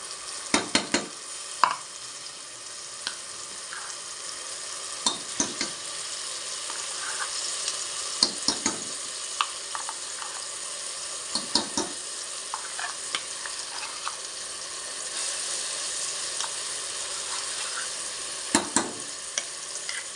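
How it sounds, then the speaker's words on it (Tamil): Ground date payasam simmers on low heat in a pan while a spoon stirs it steadily, giving a continuous soft sizzle and bubbling with repeated scraping clicks, close and alone without talk. "நல்லா கிண்டணும் பாருங்க."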